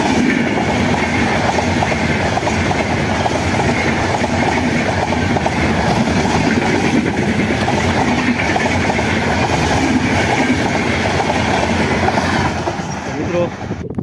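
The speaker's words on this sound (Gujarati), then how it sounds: "ટ્રેન આવી રહી છે, ટૂંક સમયમાં ટ્રેન આવી રહી છે" A train rolls past nearby on a bridge with a loud, continuous rumble and steady clickety-clack of wheels that lasts throughout and only eases slightly at the very end.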